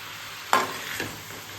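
Onion, tomato and cashews fry in a pan, opening with one sharp stir-and-sizzle burst, then a second softer scrape, with faint frying crackle around them and no talking.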